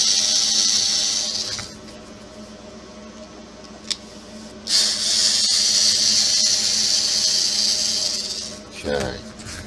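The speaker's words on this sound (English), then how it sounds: "You want to pull the screws out of both sides." Screws are being driven out of an HPI Crawler King RC car with a whirring power driver, in two long high buzzing runs separated by a quieter pause with a single click, close by.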